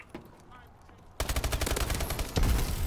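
A grenade explosion bursts suddenly amid rapid, continuous automatic gunfire in a first-person shooter video game, the shots loud, close and relentless with a second heavy blast near the end.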